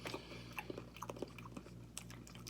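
A person chews food close up, with a run of crisp, crunchy bites and wet mouth sounds at an irregular rhythm over a low steady hum.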